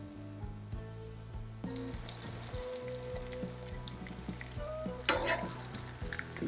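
Onions and ham frying in a pan give a crackling, spattering sizzle that grows busier, with occasional clinks and a low steady hum underneath.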